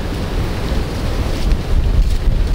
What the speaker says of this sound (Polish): ten wiatr jest dzisiaj niemożliwy